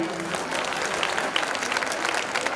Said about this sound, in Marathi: एकदा सागर दादा आणि संपूर्ण टीम साठी टाळ्यांचा गजर आपण करूया